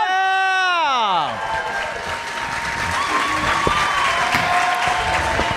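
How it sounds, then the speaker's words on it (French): A studio audience at a comedy gong show claps and cheers together after a short rising electronic sweep, with steady, fairly loud applause continuing to the end as voices call out over it. "on applaudit tout le monde ensemble"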